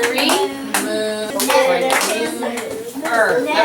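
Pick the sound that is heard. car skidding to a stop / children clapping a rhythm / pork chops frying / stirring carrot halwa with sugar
children clapping a rhythm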